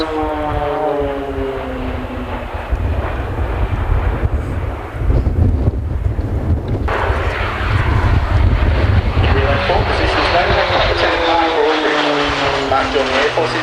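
RAAF Roulettes aerobatic propeller planes fly past in formation, their engine drone swelling and shifting in pitch with wind rumble on the microphone, while a commentator talks over the aircraft noise.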